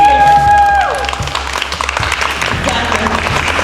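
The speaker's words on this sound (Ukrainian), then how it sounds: "Ваші оплески!" Applause breaks out after a fading musical tone, a crowd clapping steadily at moderate volume during a student presentation at a university construction faculty.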